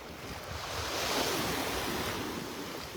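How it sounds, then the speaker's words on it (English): Small waves lap gently on a calm beach shore in North Naples, Florida, as a soft, continuous wash rises and falls slightly, mixed with light wind noise and no voices. "A few little waves lapping up on the shore, but for all intents and purposes, it's calm."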